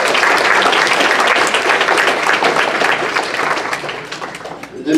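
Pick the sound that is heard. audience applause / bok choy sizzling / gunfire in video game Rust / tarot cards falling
audience applause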